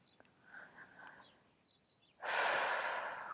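A deep, loud breath during a guided meditation, starting abruptly after a quiet stretch and holding as a broad steady rush to the end, preceded by faint soft breaths and small noises.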